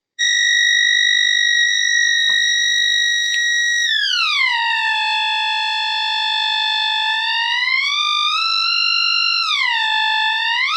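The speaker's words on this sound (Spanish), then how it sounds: "bajamos el volumen, que este pitido es bastante molesto" A loud, continuous electronic tone with rich harmonics from a valve audio-frequency generator using an ECH81 tube holds steady, then glides lower and wavers upward in pitch through an amplifier.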